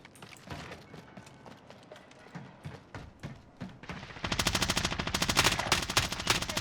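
Rapid bursts of automatic gunfire in Call of Duty: Warzone, scattered shots at first, then a dense, loud continuous volley in the final seconds.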